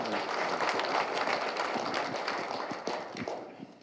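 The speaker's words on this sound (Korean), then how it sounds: "네, 모두 큰 박수로" An audience at a city government staff meeting applauds: steady, fairly close clapping from a room full of people that tapers off toward the end.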